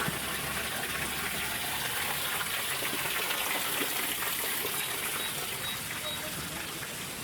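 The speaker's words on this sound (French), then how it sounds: "on va passer une petite cascade sous une rocaille" Steady broadband rush of falling water from a small cascade beneath a rockery in a park, close and continuous, with a voice faintly present under the splash.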